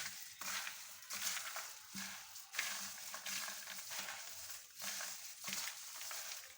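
Garlic cloves being mixed by hand with salt and flour, giving soft rhythmic crunching and rustling scrapes in repeated strokes, quiet and close.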